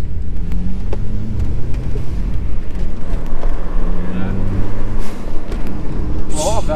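Exhaust note of a VW Passat B5 with the 1.8T engine, a steady low rumble running throughout at close range, with a few brief clicks on top.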